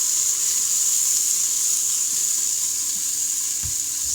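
Onions sizzle in oil inside an Instant Pot, a steady close hiss of frying with no talk.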